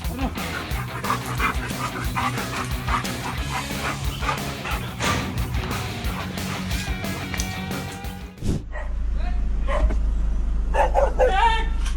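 A guard dog barks and yips loudly in quick bursts as it attacks a thief, with whimpers and yelps and voices mixed in, then the scene switches abruptly to a steady low hum with faint sounds.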